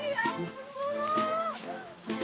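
A cow moos loudly and close, a long wavering low call with rising and falling pitch, over a background of outdoor noise.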